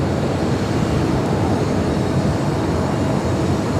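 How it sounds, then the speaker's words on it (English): A Lufthansa airliner on final approach into LAX, inbound from Munich, gives a steady broadband jet roar that stays loud and even throughout, with no talk over it. "Flight 452 coming in from Munich."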